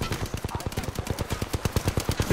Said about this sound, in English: This idiot's shooting me.